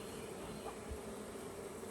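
Honey bees buzzing as a post-swarm colony boils out onto a plant during a hive inspection, a dense, steady drone filling the air up close.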